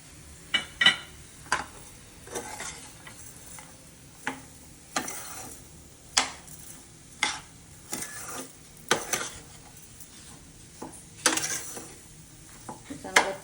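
Spoon scraping and knocking against a pan while sugar is stirred into suji halwa, in irregular bursts of clatter with quiet gaps between strokes.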